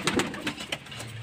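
Pigeons cooing in a home loft, a few soft throaty coos in quick succession, close and fairly quiet in a short burst.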